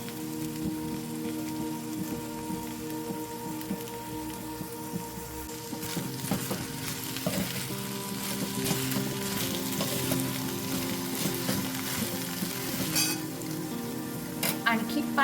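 Dried fish curry with kokum simmering in a pan over low heat, a steady soft sizzle and bubbling with faint crackles and occasional clinks, continuous throughout.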